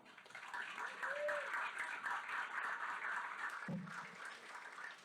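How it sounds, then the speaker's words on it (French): An audience at a talk on ecofeminism gives warm applause, a soft, steady patter of clapping held at a moderate distance, with a brief voice cutting in near the end. "On l'applaudit chaleureusement."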